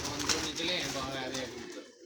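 Pigeons cooing on a rooftop loft, a soft continuous burble close by, with people talking over the birds throughout.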